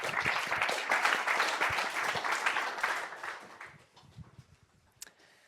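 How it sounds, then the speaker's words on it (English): An audience at a health-tech startup pitch event claps warmly for a few seconds, then the applause thins out into scattered claps and fades, with one late clap near the end. "Let's give her a round of applause."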